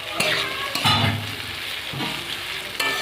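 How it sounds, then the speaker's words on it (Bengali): Small fish sizzle steadily in hot oil in a pan with ripe snap melon, with stirring scrapes and a few utensil taps over the constant hiss, close and loud. "এবার আমি মাছগুলো দিয়ে দেবো। মাছ দিয়ে একটু নাড়াচাড়া দিয়ে নেব।"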